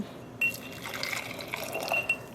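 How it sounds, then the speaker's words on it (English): A metal spoon rinsed in water while dyeing wool yarn with cochineal extract near glass jars, brief splashing and swishing with light clinks of metal on glass, close and fairly loud. "I am rinsing the spoon before going into the next one"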